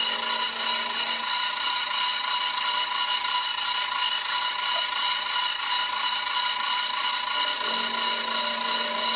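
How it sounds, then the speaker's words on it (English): A metal file rasps steadily against a leftover metal nub on a frame, a continuous close scraping with even back-and-forth strokes and no talking. "We're going to shave off that nub so I have to file it."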